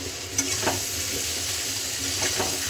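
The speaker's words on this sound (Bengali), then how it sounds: "এটা বেশি ভাজবো না, বেশি ভেজে দিলে নরম হয়ে যাবে" Whole eggplant pieces and red chilies frying in a pan, a loud, steady, hissing sizzle close up with a few faint stirring knocks and no speech.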